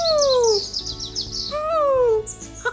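A voice imitates a bird call at the San Diego Zoo, with a series of sliding, whistled chirps and high warbling tones repeated twice, close and fairly loud, with no bird clearly distinct from the imitation.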